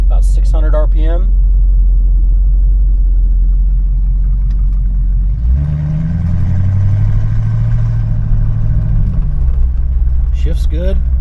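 A 1986 Chevrolet Suburban sits on a driveway idling in gear at about 600 RPM, a steady deep rumble that runs throughout, with a voice briefly at the start and end.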